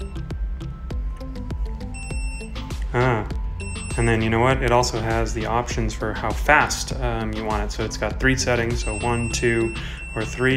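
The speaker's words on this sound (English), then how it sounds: "You can hear it beeping in the background." A Bird Air electric scooter beeps in the background with steady alarm-like tones, faint under someone talking close by through most of the stretch.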